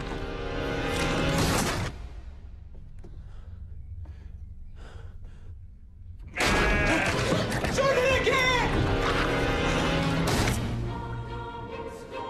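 Loud, wavering sheep bleats ring out in two bursts, separated by a quieter stretch with soft breathy sounds.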